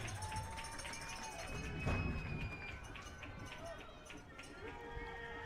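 Football stadium crowd at a Snow College versus GMC game roars and cheers in a broad, sustained wash of noise that swells briefly and then settles, with a public-address voice and scattered shouts over it.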